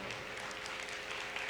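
Audience clapping at a Bhojpuri poetry recital, a short burst of steady applause with no voices over it.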